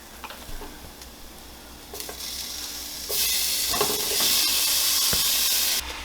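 Hamburger meat hits a hot pan for bolognese, starting with faint stirring clicks and then building into a loud, steady sizzle and hiss that holds for several seconds, with no talk.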